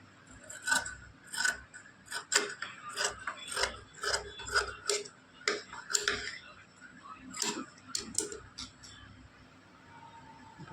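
Scissors snip through blouse fabric at marked dots, a quick run of sharp crisp cuts in an irregular rhythm close by, with no talk over them.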